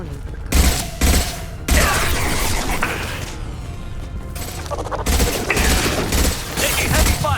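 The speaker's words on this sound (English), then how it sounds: "Taking heavy fire!" Heavy bursts of automatic gunfire from a firefight in Mass Effect 2, loud and sustained with mechanical clatter and a brief lull midway, the volleys coming in dense overlapping waves.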